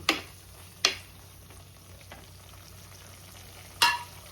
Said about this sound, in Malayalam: അപ്പോൾ ഇത് ഇങ്ങനെ വഴണ്ട് ആ എണ്ണ മൊത്തം തെളിയണം